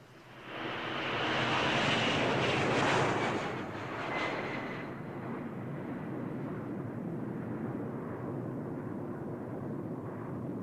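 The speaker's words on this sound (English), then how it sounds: "No, it's a plane." A passing airplane in a 1987 Sherlock Holmes drama swells into a loud broadband engine roar that peaks early, then settles into a steady, dimmer rumble for the rest of the stretch.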